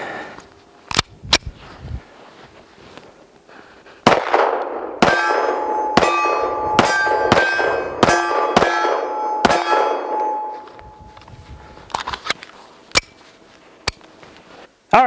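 A Beretta M1951 pistol fires a magazine outdoors: sharp, loud single shots in a quick irregular series, each followed by a bright metallic ringing, then a few slower shots at the end.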